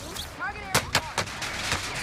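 Sniper gunfire in the video game Warzone: several sharp, loud shots in quick succession over about a second, among other game sounds and faint tonal effects.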